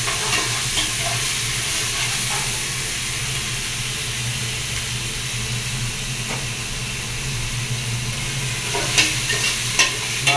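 Onion, tomato and ginger garlic paste fry in a pan with a loud, continuous sizzle and hiss, stirred now and then so scraping taps break through near the end.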